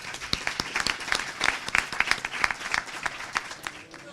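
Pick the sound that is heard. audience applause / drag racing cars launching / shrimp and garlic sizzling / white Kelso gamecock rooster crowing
audience applause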